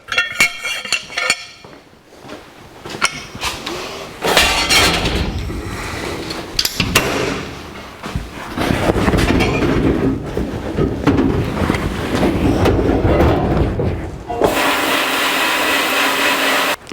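Sandblasting of a disassembled 1949 Chevrolet core support, radiator, cross members and lower mount, with a loud continuous hissing blast that surges and cuts out in bursts and changes tone as it hits the metal parts.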